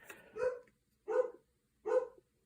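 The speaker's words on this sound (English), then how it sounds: "And the dog's barking" A dog barks three times in evenly spaced single woofs, moderately close and clear in a quiet room, with no talking.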